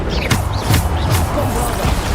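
Bombarda spell blasts from the video game Hogwarts Legacy land in a loud, dense flurry, with several sharp bursts in quick succession over a continuous roar of combat noise.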